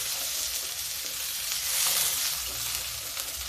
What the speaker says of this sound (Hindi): अब इसे आलू को हम करारा करारा फ्राई कर लेंगे इसमें